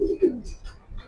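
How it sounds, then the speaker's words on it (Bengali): A Maxi racing pigeon held in the hand gives a few soft, low coos, brief and close, with quiet gaps between them. "এই আমার হাতে যে কবুতরটা দেখছেন, এটা একটা পাইট, মাক্সি পাইট কবুতর"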